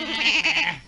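A sheep gives one short, wavering bleat, close and fairly loud, with no talk.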